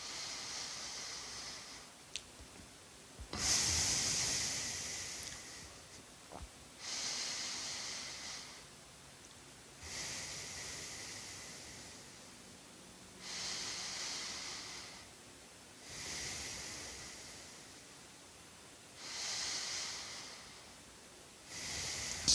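Ujjayi yoga breathing, slow audible inhales and exhales with a soft throaty hiss, repeating in a steady rhythm of about seven close, quiet breaths with near silence between them.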